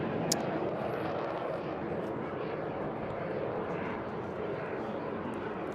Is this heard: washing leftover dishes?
no